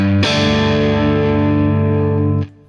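Electric guitar played through the second channel of an amp, a sustained, heavily effected chord with thick distortion and chorus-like shimmer, ringing loudly for over two seconds before a second strum and fade.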